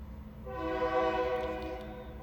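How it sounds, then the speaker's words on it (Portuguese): A train passes right beside a house wall, its horn blowing a sustained chord that swells in the middle and fades, over the low rumble of the rolling cars. "Passa um trem aqui, né? Do lado da minha casa, aqui, ó, no muro, praticamente."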